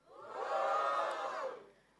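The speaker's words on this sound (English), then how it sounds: "Gems, give me a cheer." A group of event audience members lets out a single cheer of about two seconds, rising quickly, holding, then fading.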